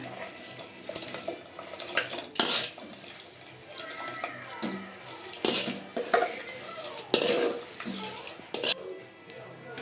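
Soaked rice tipped into a mushroom biryani pot and mixed, with scraping utensil strokes, clinks against the pot and wet shuffling in irregular bursts, close by.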